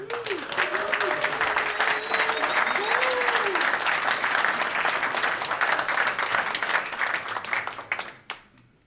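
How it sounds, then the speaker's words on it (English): A room full of people at a delivery industry meetup applauds loudly and steadily for several seconds, with a few voices calling out over the clapping before it fades out. "Give yourself an applause."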